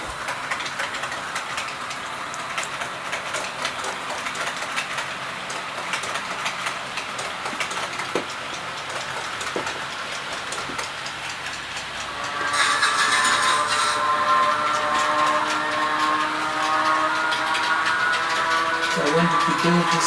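OO scale model trains running on a home layout, a steady mechanical rumble with a louder, busier stretch of whirring and clatter in the second half as another train moves nearer; a voice speaks faintly in places.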